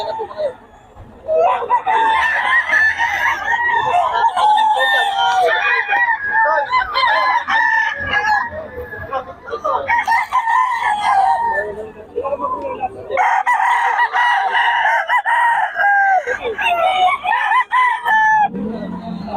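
A Sweater Kelso gamefowl rooster crows repeatedly nearby, several loud drawn-out calls separated by short pauses, with other fowl clucking around it.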